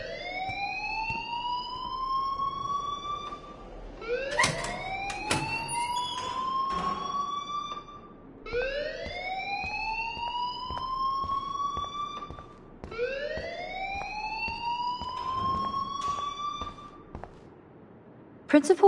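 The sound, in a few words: alarm ringing in the video game Life is Strange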